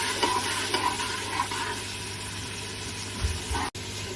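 Green chilli, garlic and ginger paste sizzles in hot oil for a fish curry, a steady close frying hiss broken by occasional scrapes of a spoon stirring the paste around the pan.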